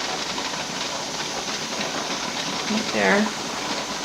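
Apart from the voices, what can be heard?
steam hissing from pressure canner vent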